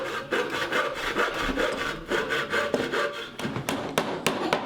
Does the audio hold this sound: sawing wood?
yes